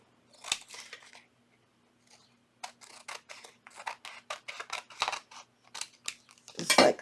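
Scissors snip through folded paper while trimming a junk journal page, a run of short crisp cuts close by, some single and some in quick bursts, after a brief quiet pause.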